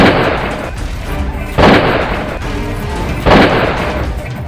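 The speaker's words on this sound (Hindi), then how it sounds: "जोश में आए दुल्हन के भाई ने पिस्टल निकाली और सरेआम हवाई फायरिंग करने लगा।" Pistol fired into the air at a wedding celebration in Muzaffarpur: two loud, sharp bangs about two seconds apart, standing out over a dense, noisy party din.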